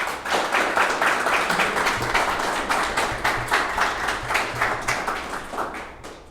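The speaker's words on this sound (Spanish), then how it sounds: "Les pido un aplauso" An audience at a political talk breaks into sustained applause, a dense steady patter of many hands clapping that fades slightly toward the end, with no speech over it.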